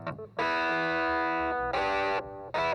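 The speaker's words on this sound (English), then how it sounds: "For a basic slap echo." A clavinet with an analog delay pedal adding a short slap echo plays loud, bright, buzzy sustained notes in three bursts, each trailed by a quick, dark repeat, with no voices.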